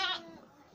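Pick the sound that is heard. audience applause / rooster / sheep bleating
sheep bleating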